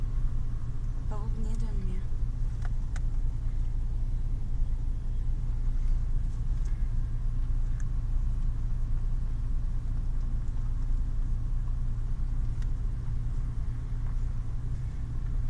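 A car engine rumbles steadily at low speed in an open field on a first driving attempt, a constant mid-level drone heard from inside the cabin while people talk over it.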